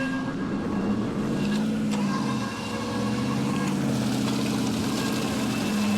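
Boat engine running steadily under light throttle, a continuous low droning hum with mild fluctuation, close and moderately loud with no talking over it.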